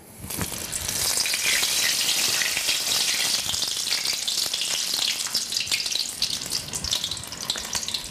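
Batter-coated shrimp deep-frying in a wok full of very hot oil produces a loud, continuous hissing sizzle with crackling bubbles, steady and close throughout.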